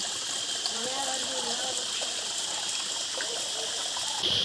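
Water at a small waterfall rushes and splashes in a steady, continuous flow, with speech faintly present under the noise.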